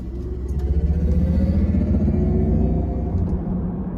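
A 2023 Mercedes-Benz EQE 350+ electric sedan accelerating hard in sport mode, heard from inside as a steady low rumble of road and tire noise with a faint rising motor whine, continuous and fairly loud, with no talking.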